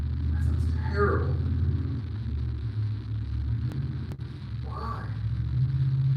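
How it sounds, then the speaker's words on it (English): A horrible-sounding car passes nearby, its low rumbling drone running steadily throughout, heard in a home gym while someone talks briefly over it. "Horrible sounding car went by."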